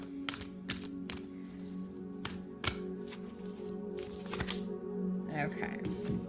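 A deck of cards is shuffled by hand, giving a series of crisp riffling bursts and taps in uneven rhythm, close and clear over a low steady hum.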